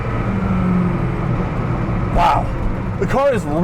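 A Hennessey Venom F5 hypercar accelerating, its engine a steady deep roar heard from the cabin, with a sharp rising revving sweep near the end and a person talking over it.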